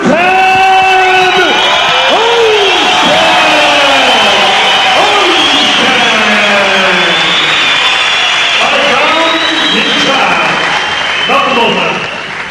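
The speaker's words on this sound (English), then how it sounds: "you heard the crowd go wild here at Dallas Brooks Hall" A crowd at a boxing match in Dallas Brooks Hall roars and whoops continuously as a fighter is introduced, loud and sustained under a ring announcer's voice.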